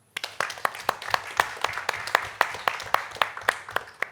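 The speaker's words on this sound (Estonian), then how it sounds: "ma usun, et see väärib aplausi." An audience at a basketball press conference applauds with a small group of hands. The claps are distinct, crisp and fairly even in rhythm, with a murmur of room noise underneath.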